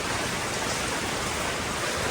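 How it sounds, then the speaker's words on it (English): Steady rain patters on a tin roof of a small compound in Laos, a dense, even wash of drops that stays constant and fairly loud with no voices. "a very relaxing, peaceful rain all morning. Listening to a pitter patter on the roof, a tin roof"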